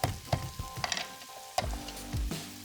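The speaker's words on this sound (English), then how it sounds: "We got some onions, we got some garlic, we're sauteing our aromatics." Onions and garlic sizzle as they saute in a pan for Moroccan lamb shanks, with a few sharp clatters of ingredients dropping in and stirring scrapes over a steady close-up fry.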